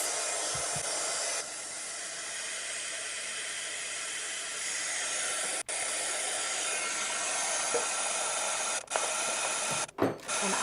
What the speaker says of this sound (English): Do you guys care if you hear a little heat gun?